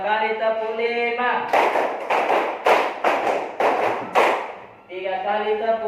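A classroom of students claps a rhythmic pattern twice in a row, a run of crisp, loud group claps in quick clusters set between stretches of a teacher talking.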